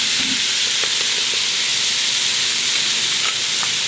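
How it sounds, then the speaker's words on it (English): Onions, carrots, celery and garlic sizzle steadily in a Dutch oven, a dense continuous frying hiss with faint stirring clicks, close and loud, with no voices. "We're going to get this going just until, you know, these onions and everything start to break down, brown up nice."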